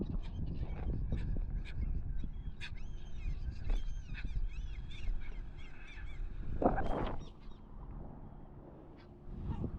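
Seabirds call repeatedly from around an uninhabited island, with honking, goose-like cries scattered across the clip over steady outdoor background noise, and one louder burst near the middle.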